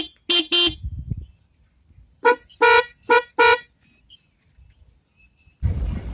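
Vehicle horn from a dual horn installation with two separately switched horns: a pair of short honks, a pause, then four more blasts in a quick, uneven series, loud and close with no talk.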